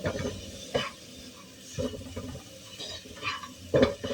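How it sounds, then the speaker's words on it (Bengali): Coconut, cashews and raisins are stirred in a pan for a shop-style chana dal, with a few sharp scraping knocks of the spoon against the pan over a low, steady background. "নারকেল আর কাজু আর কিশমিশটা এটাকে ভালো করে নাড়িয়ে নেব"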